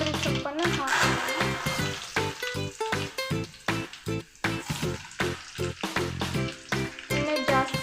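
Curry leaves and coriander leaves fry in hot oil in a pan, giving a loud, steady crackling sizzle with bursts of spitting and occasional stirring scrapes throughout.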